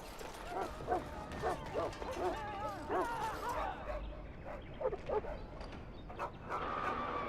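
A dog barks and yips repeatedly inside a larder in Dragon Age: Origins, sharp close barks in quick bursts amid game ambience with some whimpering, no clear voices.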